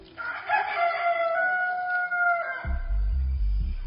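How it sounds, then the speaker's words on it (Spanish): A rooster crows once, a long drawn-out call lasting over two seconds, followed by a low rumbling tone. "enseguida cantó un gallo"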